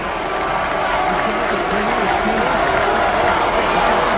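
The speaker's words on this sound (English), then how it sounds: "Just listen to how electrifying it became. This Purdue crowd's back in it." Purdue fans in a basketball arena roar in a sustained, loud crowd din during an NCAA tournament game, a dense wall of cheering with no breaks.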